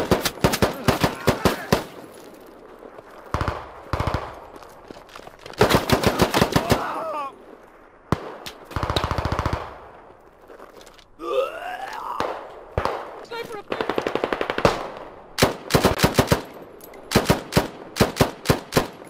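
Autocannon fire in the military shooter game Squad, heard as repeated loud, close bursts of rapid heavy shots separated by short pauses, with whining effects and occasional voices in between.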